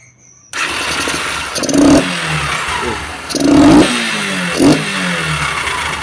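A Honda Factor 125 motorcycle running without its air filter revs hard several times, with loud, close throttle bursts rising and falling over a steady idle.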